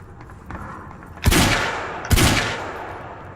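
Two heavy pistol shots ring out in the video game Quantum Break, about a second apart. Each is a loud, close crack with a booming echo that trails off.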